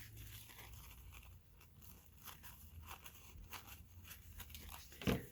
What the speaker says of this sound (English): I'm just going to take a pair of scissors and I'm going to cut